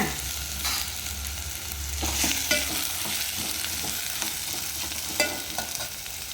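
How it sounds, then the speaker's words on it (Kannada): Onion and green chilli frying in hot oil for home-made dum biryani, a steady close sizzle with intermittent scraping stirs of a spoon against the pan, no voices. "ಈಗ ಈ ಎಣ್ಣೆಗೆ ಈರುಳ್ಳಿ ಹಸಿಮೆಣಸಿಕಾಯಿ ಹಾಕ್ತೀನಿ. ಚೆನ್ನಾಗಿ ಫ್ರೈ ಮಾಡ್ಕೊಂಬಿಡೋಣ"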